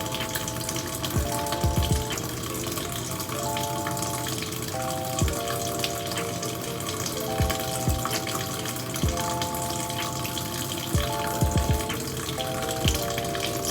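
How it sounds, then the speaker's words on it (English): Warm tap water running steadily as hands are rinsed under it, a continuous close splashing flow with small shifts as the hands move through the stream. "Rinse hands thoroughly with warm running water"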